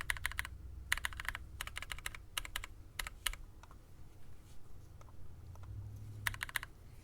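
Typing on a Vixen prototype mechanical keyboard: quick clustered bursts of sharp, clacky keystrokes with short pauses between them, close and clear against a quiet room.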